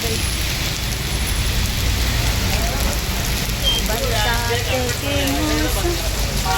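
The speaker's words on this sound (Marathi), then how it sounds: "पाऊस आहे खूप." Heavy rain falls outside as a loud, dense, unbroken hiss and patter on surfaces, with a faint voice briefly audible beneath it in the latter half.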